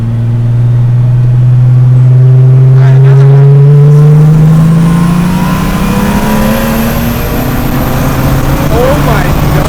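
A turbocharged BMW E12 with an M30 engine pulls hard, its loud engine note climbing steadily in pitch as it accelerates, with people talking over it.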